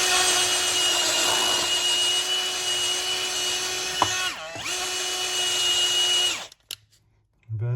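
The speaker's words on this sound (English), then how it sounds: "it's a drill bit pipe cleaner" A power drill spins a drill bit pipe cleaner in a plumbing job with a steady, close high whine. It briefly dips and recovers near the middle, then winds down and stops, followed by a few short bursts.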